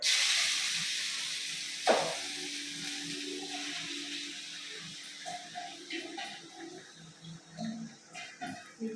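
Grated carrots sizzle in two spoons of hot ghee for carrot halwa, a steady hiss that starts loud and eases off, with a clatter near two seconds and light stirring knocks later on.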